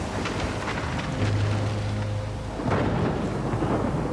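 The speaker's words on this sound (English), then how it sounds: "It's a storm, stormy night, evening, afternoon, whatever time it is." Thunder in a stormy night scene from the video game Life Is Strange rolls as a deep rumble over steady rain-like hiss, swelling again toward the end.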